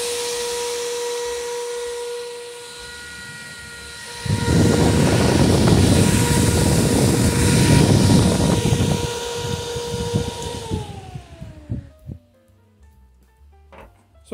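A Delta fan spins up to high speed with a loud, steady whine over a roaring rush of air, holding for several seconds before winding down with a falling pitch and fading to clicks.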